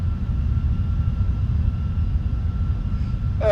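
The engines of a PMDG Boeing 747-400 freighter in the Prepar3D flight simulator make a steady, loud, deep roar with a constant whine above it, continuous and unbroken, and no one speaks.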